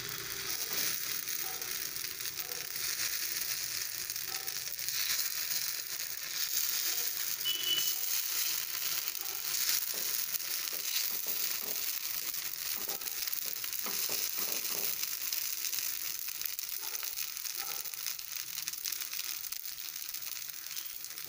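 Paniyaram made from dosa batter sizzles steadily in a pan, a soft continuous crackling fry that holds at an even, moderate level throughout with no talking.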